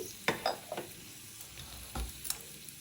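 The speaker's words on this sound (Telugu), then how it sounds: "ఆయిల్ వేడయ్యాక దీనిలో ఒక ఎండుమిరపకాయని ఇలా తుంచి వేసుకోండి. 2 టేబుల్ స్పూన్లు పల్లీలు వేసుకోండి." Dried red chili and peanuts fry in hot oil for vermicelli upma, a quiet crackling sizzle broken by a few sharp stirring clicks and pops, close and without speech.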